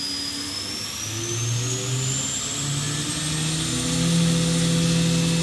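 Feeler VMP-1100 4-axis CNC vertical machining center spindle spinning up, a steady mechanical whine rising in pitch in stages as the speed climbs, loud and close with a high whistling tone above.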